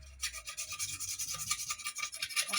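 Paint is scraped off the side of a motorhome in quick, rhythmic rasping strokes, close and fairly loud, with no voices.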